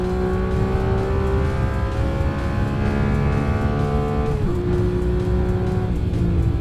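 A 2018 Porsche 911 GT3 Touring driven hard on a race track, its engine droning loud and sustained under acceleration with a steadily rising pitch, then a brief shift dip before climbing again.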